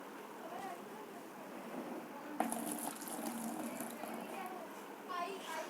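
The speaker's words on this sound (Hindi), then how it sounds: "अब हम इसका ये पानी डाल देंगे, निकाल देंगे" Water is poured off soaking potato slices, pouring and splashing at a steady rush over faint background voices and low murmur, starting partway through and continuing to the end.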